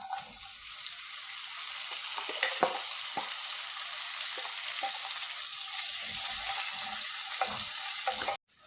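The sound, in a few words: crushed garlic and shallots frying and being stirred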